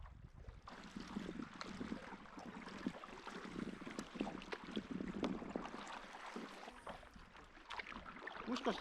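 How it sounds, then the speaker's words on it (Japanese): Paddle strokes from a small boat on calm water in a quiet canyon approaching Antelope Canyon, faint soft splashes and water swishes with light breezy hiss throughout. "聞こえるのは自分がパドルを漕ぐ音と、"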